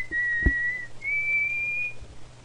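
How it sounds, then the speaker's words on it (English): A person whistles two long, steady, shrill notes with a short break between them, heard close and alone over a faint background hum. "How about you don't whistle because it's hurting my ears?"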